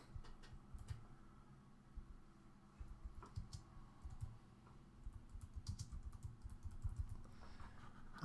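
Fingers type a preset name on a computer keyboard in quiet bursts of light, rapid key clicks, close but soft, with no talking.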